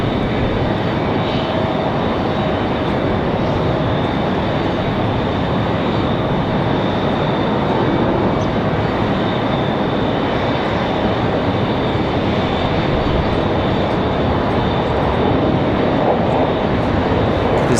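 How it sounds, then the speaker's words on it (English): A Southwest Airlines jet arriving from Dallas at Raleigh-Durham International Airport produces a loud, steady broadband engine roar that holds for the whole stretch, with no talk. "Southwest coming in from Dallas"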